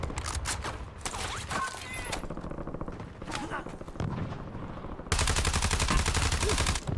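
Rapid automatic gunfire in Call of Duty Warzone rattles in dense bursts, loud and continuous, with game voices calling out over the shooting.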